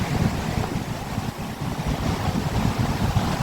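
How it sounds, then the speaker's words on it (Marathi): Rough, churning sea surf roars steadily along a shoreline, mixed with strong wind buffeting the microphone, continuous and loud with no voices. "बघा किती डेंजर दिसतोय समुद्र. बघा खवळला आहे"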